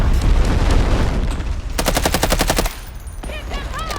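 Rapid automatic gunfire from the video game Delta Force on a sandstorm-swept map, loud, with dense bursts and a sustained clattering volley, followed by quieter game effects.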